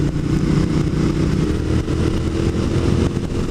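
A motorcycle with an aftermarket exhaust cruises along Spring Hill Road, its engine a loud, steady rumbling drone close by, holding a constant note throughout with no speech over it.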